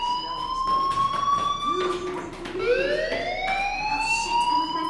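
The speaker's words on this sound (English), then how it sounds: "do you hear that fire alarm? That means you should be outside." A school fire alarm in the Life Is Strange game wails continuously. Its piercing tone slides and sweeps in pitch, loud and steady over faint background clatter.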